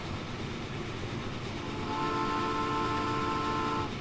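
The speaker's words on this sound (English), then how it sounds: "I have these trains running and watch them" Trains run in the game Transport Fever, a steady, loud rumble of rolling rail cars with a sustained tonal hum rising partway through, no voices.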